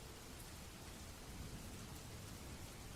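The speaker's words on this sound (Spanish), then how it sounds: "La tormenta." Steady, dense rain beating down through a thunderstorm, a constant even wash of noise with a faint low rumble beneath it, with no voices.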